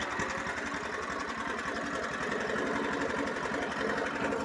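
A Chinese petrol walk-behind tractor engine fitted with a quiet muffler runs steadily, giving a fast, even putter with a soft mechanical rattle, close by and alone with no voices.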